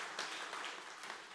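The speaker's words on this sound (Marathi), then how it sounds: "तर एकदा आपण सरांच्यासाठी जोरदार टाळ्या वाजवाना." Audience applause at a book launch, a dense steady wash of clapping from a crowd, fairly distant and soft, continuing evenly throughout.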